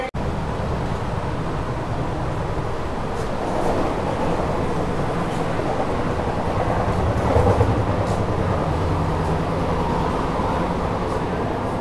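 A Sealdah-Krishnagar AC local train departing gives a steady low rumble and rolling noise from inside a coach, with faint rattles and clicks, swelling slightly toward the middle.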